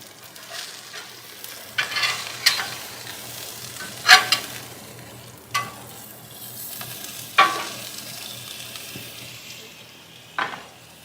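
Food sizzling on an outdoor grill at a burger party, a continuous frying crackle broken by several sharp spatter bursts spread across the span, with no talking.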